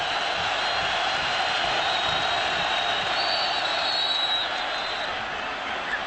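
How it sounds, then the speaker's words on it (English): A college football stadium crowd at South Carolina versus Ole Miss in 2009 roars on third and one, a loud, sustained wall of cheering and noise that holds steady throughout and eases slightly near the end. "Crowd gets involved on 3rd and 1."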